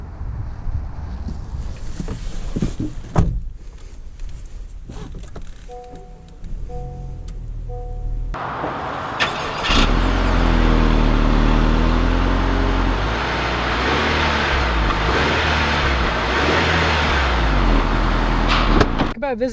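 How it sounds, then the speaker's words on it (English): A 2020 Honda Accord Sport 2.0T on the move: a quieter, uneven start gives way to loud, steady road and wind rumble that continues to the end. "let's take this 2020 Accord out to see how it drives."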